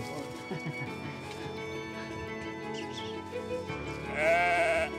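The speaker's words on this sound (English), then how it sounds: "These lambs were born in the night." Newborn lambs on a Moroccan farm bleat, one clear wavering cry rising near the end over a faint, busy outdoor background.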